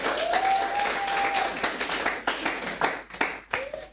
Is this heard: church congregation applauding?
yes